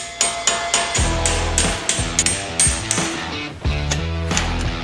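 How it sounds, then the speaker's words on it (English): A part for Honda Civic Type R brakes being hammered into place with a dedicated tool, heard as a close, loud series of ringing metallic strikes at a steady rhythm, about a dozen blows. "So what we're going to want to do is hammer this in. I do have a specific tool for that."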